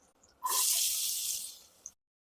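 Chopped onions drop into hot oil already seasoned with curry leaves for a Tamil yam curry, setting off a sudden loud sizzle that hisses steadily for about a second and a half, then cuts off.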